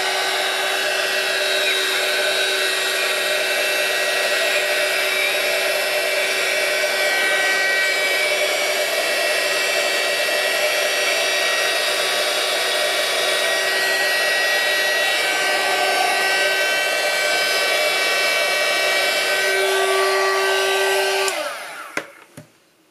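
A small heat gun blows steadily over embossing powder on a card, a loud, close whirring hiss held for about twenty seconds before it switches off and winds down.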